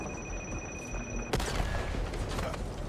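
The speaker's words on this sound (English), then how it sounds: "somebody threw a grenade?" A grenade goes off in the Back 4 Blood video game as one sudden loud blast partway through, followed by rumbling and scattered gunfire over steady game noise.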